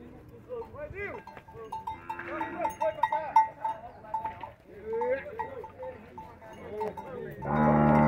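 Cattle low and moo repeatedly at a livestock fair in Cipó, Bahia, with several calls rising and falling close by amid crowd chatter and people talking.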